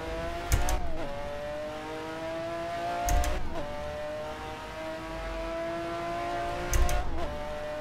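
A McLaren F1 GTR race car engine in a sim racing game drones steadily with shifting revs, punctuated by three sharp gearshift or braking bursts spaced a few seconds apart.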